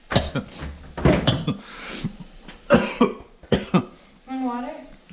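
A person coughs repeatedly in harsh, close bursts from eating spicy serrano peppers while cooking curry-style potato eggs, with voices talking between the coughs.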